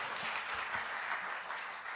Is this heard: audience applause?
yes